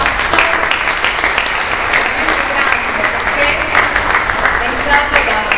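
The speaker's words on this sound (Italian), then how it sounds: "Ringrazio sempre Giancarlo Ranieri, un applauso enorme a questo ragazzo." Steady, dense applause from a large audience at a chamber music concert fills the space, loud and sustained without pause for several seconds.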